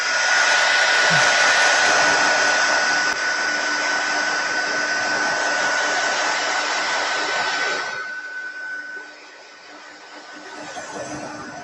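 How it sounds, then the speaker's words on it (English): An embossing heat gun blows with a loud, steady whirring rush close by for about eight seconds, then drops to a softer, quieter hum at the end. "Have the embossing gun ready to go."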